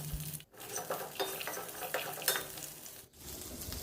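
Peanuts, tamarind and salt for chutney are stirred in a hot pan, a soft sizzle with light scraping and rattling of nuts against the metal, close and fairly quiet.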